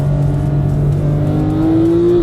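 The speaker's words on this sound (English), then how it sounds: "So it's a 4-litre, naturally aspirated 500 brake horsepower car." A Porsche 911 GT3 with a 4-litre naturally aspirated engine makes 500 brake horsepower, heard as a loud, steady engine drone with a rising tone as it builds revs, close and without talk.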